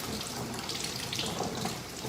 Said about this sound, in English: Then we're going to rinse our hands, getting all that soap off.